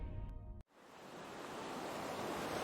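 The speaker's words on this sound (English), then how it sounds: "here you are in the middle of the ocean" Open-sea ocean waves surge in a steady broadband wash after a brief cut, building slightly and continuing alone with no talk, like endless surf heard far from shore in thick fog.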